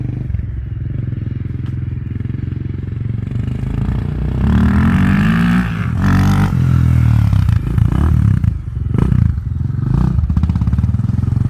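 A Honda 400EX ATV with an FMF exhaust idles and then revs up, its engine growing louder and more throaty, with clattering and scraping throughout and no voices.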